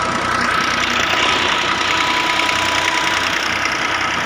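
A Belarus tractor idles slowly and steadily under no load while running a brick-making machine, giving a close, loud, even engine rumble with a knocking pulse and no talk.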